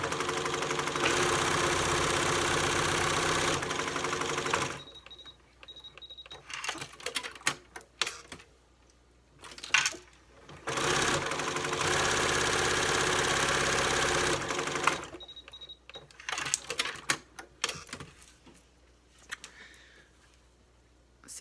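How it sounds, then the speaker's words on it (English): A sewing machine back stitching the seam of a fabric face mask, running in steady mechanical bursts with short pauses between passes, close and fairly loud. "I'm back stitching at the ends of my stitches to keep it from unraveling."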